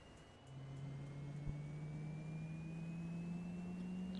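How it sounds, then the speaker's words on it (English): A King Air 350 turboprop in the X-Plane 11 simulator spools up on start, a steady low hum joined by a faint whine that climbs slowly as the engine winds up, quiet and continuous with no talk. "Alright, we're going to start engine 1."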